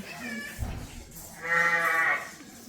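A drawn-out, nasal bleat like a toy sheep, sounding once fairly close, with a brief low thump before it and quiet background noise.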